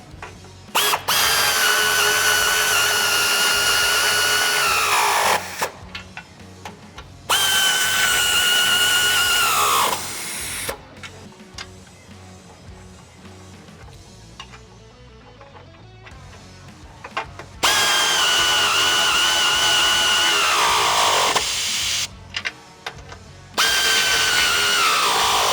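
A handheld power drill or impact tool runs in long bursts of steady whine, with quieter stretches of shop noise between, while nuts are tightened on a Mopar 3-piece Rubicon front bumper on a Jeep Wrangler JL.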